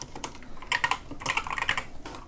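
Code being typed on a computer keyboard for a Roblox Studio script: quick, uneven bursts of close, crisp key clicks in clustered runs with brief pauses between them.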